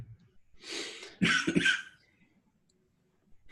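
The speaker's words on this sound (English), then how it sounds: "I heard you cough" A single cough in an echoey closet on a remote call, a loud burst of two or three hacking pulses following a softer breathy exhalation, then near silence.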